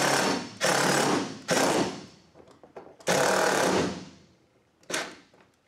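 Power drill driving screws into a wall stud to mount a Green Touch trimmer rack bracket, with loud, close bursts of buzzing whir separated by short pauses and light clicks.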